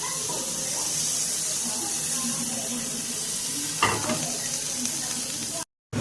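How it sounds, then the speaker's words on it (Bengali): Capsicum sautéing in butter on a tawa gives a continuous close sizzle, punctuated by a sharp utensil scrape midway and faint background noise, cutting off abruptly just before the end. "এবার ওই তাওয়াতেই ক্যাপসিকামগুলোকে একটু সটে করে নেব।"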